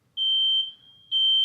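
A smoke detector emits two shrill, piercing electronic beeps, one long tone then a second after a short gap, loud and clear with no talk.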